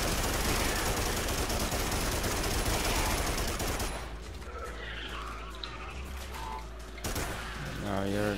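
Gunfire from the video game Primal Carnage, with sustained rapid shooting loud through the first four seconds, then quieter scattered shots and game noise, and a burst returning near the end. A voice talks over part of it.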